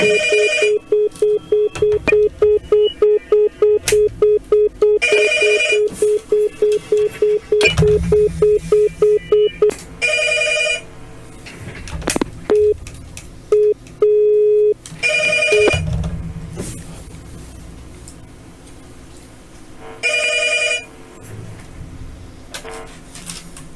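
A telephone callback: a run of rapid dialing beeps, then repeated ringing tones in bursts separated by pauses, with brief clicks and line noise between rings, no talk.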